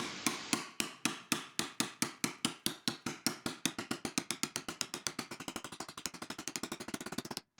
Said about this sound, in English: banging it on the side of the workbench itself works to finish off this one bend